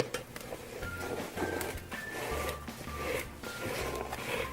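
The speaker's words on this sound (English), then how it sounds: "Let's fill in any little holes up here. And scrape again." A scraper smooths frosting on a caramel apple spice cake spinning on a turntable. Soft, faint, repeated scraping and rubbing strokes come close by, with no voice.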